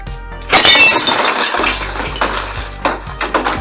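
Something knocks against a glass cabinet, giving a loud clattering crash followed by several lighter clinks and rattles close by.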